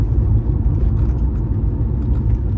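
A pickup truck pulling a trailer drives along, giving a steady, loud, low engine rumble and road drone close to the microphone, with no talk over it.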